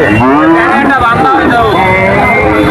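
Cattle lowing at a busy rural cattle market in Shahpur, one strong drawn-out moo rising over a steady hubbub of crowd chatter and nearby voices.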